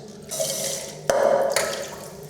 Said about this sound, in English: I'll collect my water for my hot water bottle later